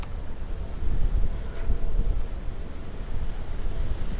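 Wind buffeting the microphone at a pond while bass fishing in early spring, a steady low rumbling roar with gusty swells, close and continuous with no talk.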